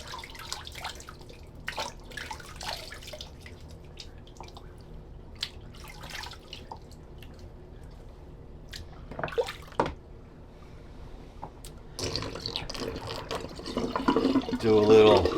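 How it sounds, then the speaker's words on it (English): Water drains from a bathroom sink after a shave, a soft gurgling rush rising near the end over a room full of scattered drips and clinks. "let me empty good old Sigmund the Sea Monster sink"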